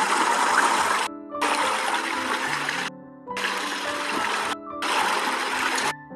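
A bathroom toilet flushing in four loud rushing bursts of water separated by brief gaps, with trickling and gurgling close by.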